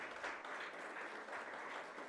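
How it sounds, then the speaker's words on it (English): Steady, unbroken audience applause fills a hall at an India vehicle after-sales industry summit, a dense even patter of many hands clapping with no voices over it, heard at some distance and fairly soft. "A round of applause for Mr. Pandey, please."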